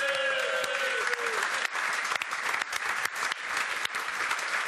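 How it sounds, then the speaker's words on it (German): Applause for a goal among football fans watching the 2015 German Cup final between Wolfsburg and Dortmund, a dense burst of clapping that carries on steadily throughout, close and fairly loud. "Vielleicht noch einmal noch einen Applaus für das Tor von Litti."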